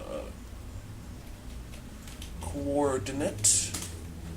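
Computer keyboard keys clatter in a short burst of quick typing near the end, following a stretch of quiet room noise with faint background sound.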